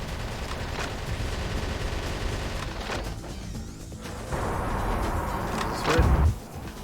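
Constant gunfire from the Metal Wolf Chaos video game roars on as a dense, sustained barrage, loud and close, with a brief heavier burst near the end.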